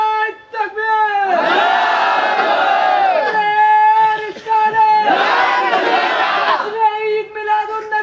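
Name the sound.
crowd chanting religious slogan Takbir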